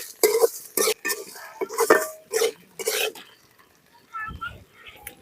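Okra stirred and sautéed in a pan with a little asafoetida for a Tamil buttermilk curry, giving bursts of scraping and clattering against the pan, close and fairly loud, with a voice talking between strokes.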